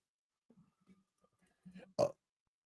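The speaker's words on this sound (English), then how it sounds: "This guy just let a burp rip" One short, loud burp, close to the mic, on a sports talk show, coming after a few quiet throaty murmurs and then silence.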